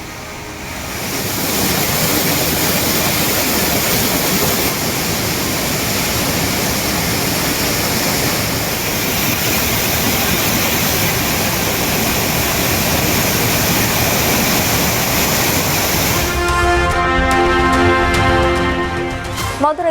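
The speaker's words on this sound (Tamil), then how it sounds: "கன்னியாகுமரி மாவட்டம் திருப்பரப்பில் 2வது நாளாக ஆர்ப்பரித்து கொட்டும் அருவி." Roaring waterfall in flood at Thirparappu in Kanyakumari, swollen by the Kodhai river, a loud steady broadband rush of falling water sustained close to the microphone throughout, with a brief change in texture near the end.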